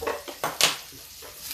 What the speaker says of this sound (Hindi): ये कढ़ाई मेरी स्टील की है